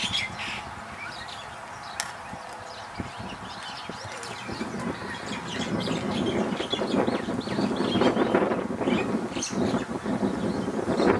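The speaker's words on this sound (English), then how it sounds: "Look at all the myna birds." A flock of myna birds calls and chatters in the open during an Easter outing, dense overlapping squawks and chirps at mid distance. The noise builds steadily in loudness throughout, with no talk.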